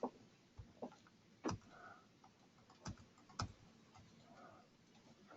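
Quiet computer keyboard typing at a desk, with irregular bursts of soft key clicks and a few sharper taps spread across the moment, close and faint with no talking.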